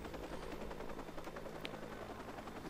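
Helicopter hovering in the open-world game Watch Dogs, a steady rotor drone with mechanical whir mixed into dense game ambience, with one brief sharp transient partway through.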